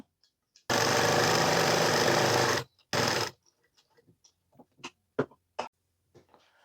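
A sewing machine runs steadily for about two seconds and then in a short second burst while hemming a kitchen apron, close and loud, followed by quiet clicks and handling taps.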